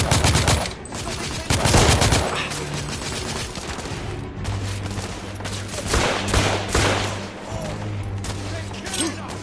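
Rapid gunfire in a battle in the video game The Order: 1886, loud bursts and single shots crackling close by, with voices calling out between and over the shooting.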